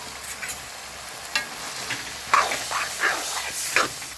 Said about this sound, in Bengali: ডালিয়া দিয়ে কষিয়ে নেব